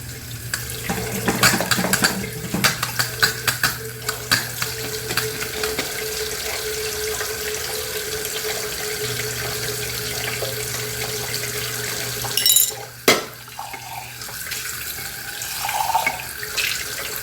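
Water runs steadily from a tap for the whole stretch, a constant splashing hiss with a few clinks and knocks, and one sharp clatter near the end.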